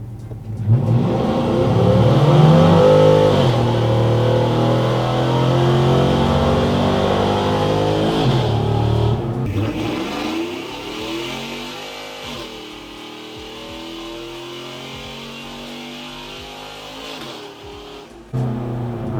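Texas Speed Stage 4 Silverado 5.3 V8 on a dyno in gear, a loud, close engine howling through a hard wide-open-throttle pull, then dropping back to a lower rumble that settles and idles.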